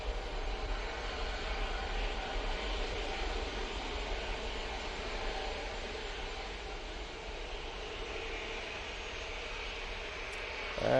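A jet airliner climbs away from Manchester Airport bound for Hania, its engines a steady broadband roar that holds at an even level throughout, with no voices.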